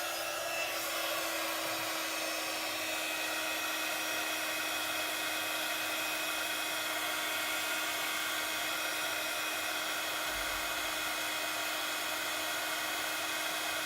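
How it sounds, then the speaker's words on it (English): A craft heat tool blows hot air over a Christmas card, a steady, close whirring hiss with a high whine that runs unbroken and alone throughout. "they might just blow away when I turn my heat tool"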